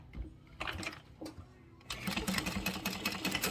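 A sewing machine stitches a bag seam with backstitching, brief bursts of motor hum that stop and start, then a longer steady run, close and moderately loud.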